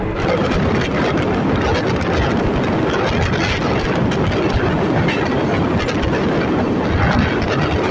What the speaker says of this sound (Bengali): ট্রেনটা এখন ছেড়ে দিল জয়নপুর সিটি থেকে